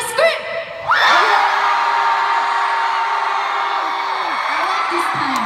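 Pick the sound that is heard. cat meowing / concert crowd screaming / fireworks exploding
concert crowd screaming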